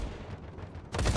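Turret gunfire in the video game Industria: a dull low rumble that breaks into a sudden louder burst near the end, brief and fairly close.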